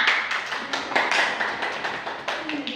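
Students in a classroom applaud together, a dense run of overlapping hand claps at a steady, moderately loud level for a few seconds.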